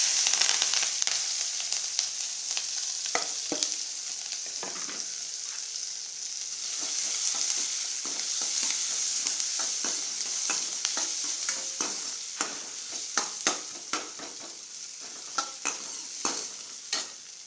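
Onion and green chilies sauté in a pan for a roasted brinjal pachadi, a steady bright sizzle running throughout with frequent sharp clicks and scrapes of stirring, close and alone.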